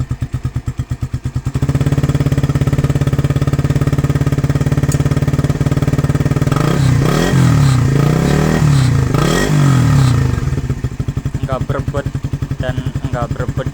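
A Suzuki Satria fuel-injected motorcycle fitted with an SCD Euro aftermarket exhaust idles with a rapid thumping pulse, then revs up into a loud, sustained, raspy roar held for several seconds before dropping back to a burbling idle, close by.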